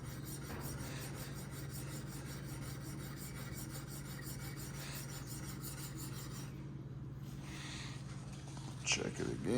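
A steel chisel bevel is rubbed back and forth on a fine oil stone, giving a steady, continuous scraping rasp at close range under a low hum, with a few louder knocks near the end.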